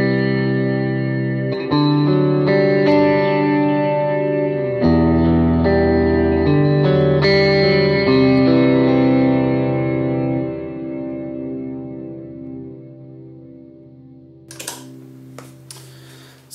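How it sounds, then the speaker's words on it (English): Electric guitar through a worship pedalboard set for ambient, swirling reverb-like modulation plays slow sustained chords that shimmer and wash into each other, then fade into a lingering tail, ending with a few light clicks. "I use it too, like, if you just play kind of ambient-ish stuff underneath it, it almost acts like a reverb that just kind of swirls and moves around."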